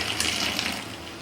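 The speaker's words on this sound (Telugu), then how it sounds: "ఇలా మనము టీని కాస్త పైనుంచి పోసుకోవాలి." Masala tea poured from a height into a cup to build froth gives a close, steady splashing stream of liquid that runs continuously for about a second, then tapers slightly, with no voices over it.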